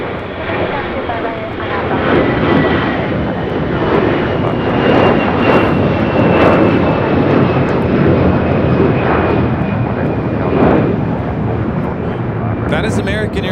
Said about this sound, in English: That is American Airlines 2882 taking off to Dallas-Fort Worth on an A321.